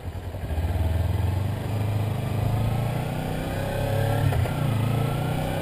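Engine of a Kawasaki Ninja 300 motorcycle drones steadily while riding, a smooth mid-pitched hum that swells slightly at times, close and continuous with no talk over it.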